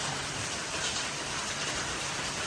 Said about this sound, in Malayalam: വെള്ളം ഇങ്ങനെ പെയ്തുകൊണ്ടിരിക്കുകയാണ് മഴ.